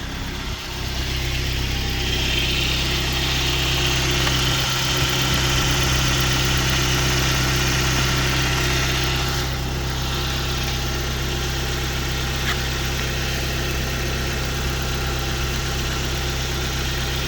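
Car engine idling steadily after a jump start with a small portable jump starter, a continuous low rumble with mid-range hum, close and loud throughout with no talking.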